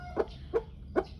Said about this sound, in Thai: เขาก็พยายามเรียกแม่ไก่มากินนะ